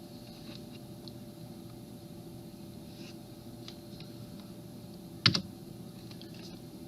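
Quiet, sparse keystrokes on a computer keyboard as a command is typed at a desk, soft scattered clicks against a faint hum, ending in one sharper, louder key press like hitting Enter.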